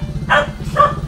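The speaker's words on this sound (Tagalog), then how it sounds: "Kaya pala maingay yung aso." A dog barks twice, close and loud, the two sharp woofs about half a second apart over a low steady hum.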